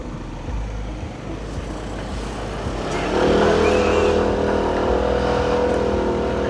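A Hero Xoom 160 scooter climbs a steep uphill mountain road near Manali, its engine note swelling louder and steadier partway through as the throttle opens, with traffic noise around.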